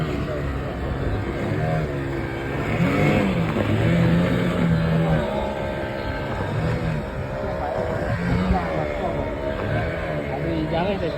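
A motorboat engine passes at sea off Goa, a loud, close droning whine whose pitch rises and falls as it goes by, holding steady throughout.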